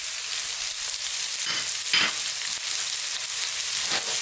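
Curry leaves hitting hot oil in a pan with bitter gourd for a vegan karela sabzi, a loud continuous sizzle and crackle with brief stirring scrapes, close up and without talk.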